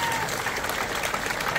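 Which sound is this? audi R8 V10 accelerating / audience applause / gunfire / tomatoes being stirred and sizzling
audience applause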